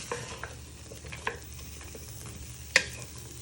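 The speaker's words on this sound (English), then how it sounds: "you just keep stirring them till they get a nice golden brown" Parsnips with curry powder fry in a pan with a steady sizzle as a spoon stirs them, giving scattered scrapes and one sharper clink near the end.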